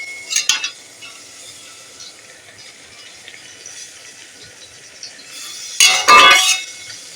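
Drumstick greens with grated coconut being stirred in a pan, with a few short metallic clinks of a spatula at the start and a louder burst of scraping and clatter near the end over a soft steady sizzle.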